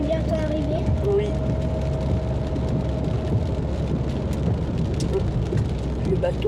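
Steady rain drumming on a moving car during a drive toward Longchaumois, a constant close hiss with road rumble beneath, while people chat quietly throughout.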